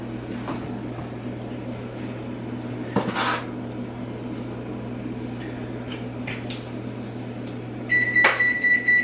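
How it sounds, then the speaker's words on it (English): A kitchen oven beeps to signal it has preheated to 350 degrees while an apple cake is assembled, a short run of clear electronic tones near the end over a steady appliance hum and light clatter of dishes. "That's the oven telling me it's 350, ready to go"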